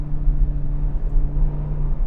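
An Audi R8 V10 fitted with a Tubi Style aftermarket exhaust settles into a deep, steady idle, a loud rumbling drone with a constant low hum and no revving.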